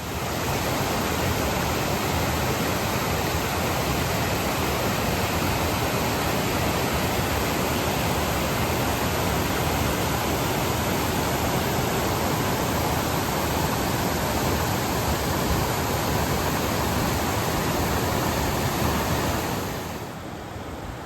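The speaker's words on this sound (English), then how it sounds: "Kind of cool to see the waterfall" Waterfall near Helen Lake on the John Muir Trail in the High Sierra, a steady loud roar of falling water filling the scene without a break, close by and alone, easing off slightly at the very end.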